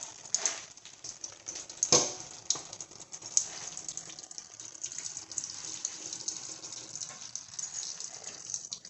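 Engine oil draining from a 2012 GMC Chevy 5.3 V8, a close, steady liquid pour with a few sharp metallic clinks near the start.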